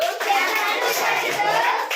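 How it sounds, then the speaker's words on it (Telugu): Children clap their hands in rhythm during a church children's ministry song, steady close claps mixed under young voices singing. "నా చిట్టి చేతులతో చప్పట్లు కొట్టుచు"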